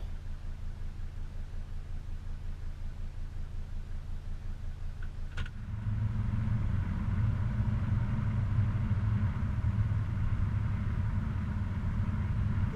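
A Mercedes 300D turbo diesel idles nearby with a steady low rumble, and the engine note grows louder and fuller partway through.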